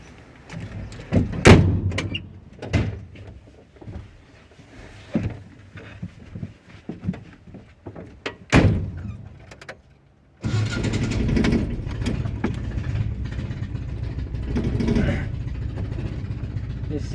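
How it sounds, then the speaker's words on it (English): Clunks and a door thud come first, then a Nissan KA24E engine with a Cherry Bomb exhaust turns over and settles into a loud, rough, throaty idle that continues steadily. "It sounds crazy. It's got that cherry bomb exhaust,"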